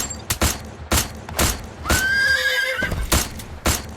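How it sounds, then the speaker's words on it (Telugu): Hooves clop in a steady, close rhythm of sharp strikes while a horse lets out one loud, clear whinny in the middle. "అరే ఎక్కువ గుర్రం ఎక్కువ అది ఉరికిద్దిరా"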